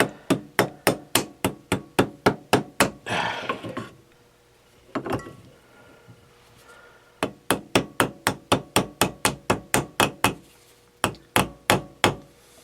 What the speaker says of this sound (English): I'll just tap that over with a hammer or screwdriver and hammer